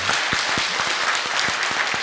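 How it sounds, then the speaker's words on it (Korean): Congregation clapping in welcome during a Sunday church service, a steady wash of applause from many hands filling the room throughout with no voices over it. "귀한 분들 우리 박수로 환영해 주시기 바랍니다"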